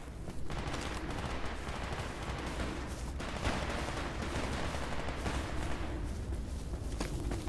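Continuous dense gunfire in S.T.A.L.K.E.R. Anomaly GAMMA, a steady loud barrage of rapid shots and rumbling blasts that holds for several seconds without pause.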